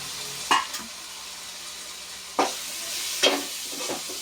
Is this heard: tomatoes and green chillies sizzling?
yes